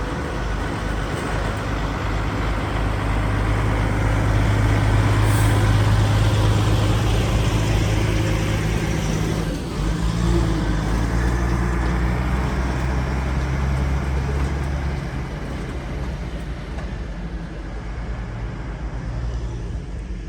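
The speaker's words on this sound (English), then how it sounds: "we have another ride pulling in now, which looks to be another Funhouse." A heavy truck hauls a funhouse ride into a street fair setup, a loud low engine rumble with idling drone and passing traffic, steady throughout and easing slightly near the end.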